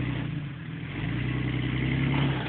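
A car engine revs up as the driver gives it a little gas, a steady mid-pitched hum that swells slightly and holds close by.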